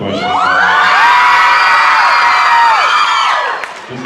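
A convention panel audience yells answers back in a loud, sustained chorus of overlapping voices and shouts lasting several seconds, then trailing off abruptly.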